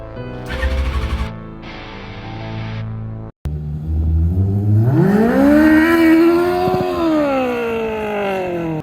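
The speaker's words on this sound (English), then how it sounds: "If you just give it wide open, it just sputters." A modified Smart car engine sputters and revs unevenly, choppy low bursts giving way after a brief cut to a rising, wavering rev that climbs, holds and slowly falls, close and loud.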